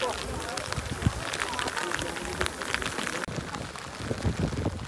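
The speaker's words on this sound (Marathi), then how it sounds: "तर गाईज फुल पाऊस चालू आहे जोरात." Heavy monsoon rain pours steadily at Raigad Fort, a dense close hiss of drops striking surfaces and rain gear, continuous throughout with people talking over it.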